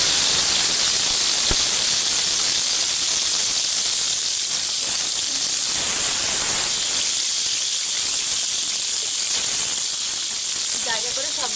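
Bhetki fish and prawns fry in hot oil in a pan, giving a steady, loud, close sizzle and hiss that runs the whole way through with no talk.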